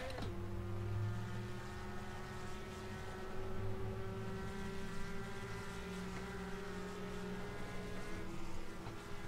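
Several race car engines buzz steadily in the NR2003 racing game, a Goody's Dash race at Daytona, forming a dense, continuous high-pitched drone with sustained harmonic tones and no talk.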